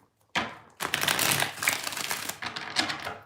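A deck of tarot cards is shuffled close by, with bursts of quick papery riffling and slapping that start and stop over a few seconds.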